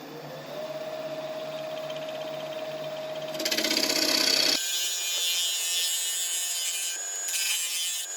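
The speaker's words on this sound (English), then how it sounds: "we need to go a little bit further on the scraping" A woodturning lathe tool scrapes spalted wood in a steady, continuous rasping drone that briefly swells louder and brighter mid-way before settling again, with no talking.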